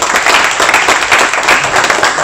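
Loud, close applause from a debate audience, dense clapping with a slightly uneven, surging texture throughout the short burst.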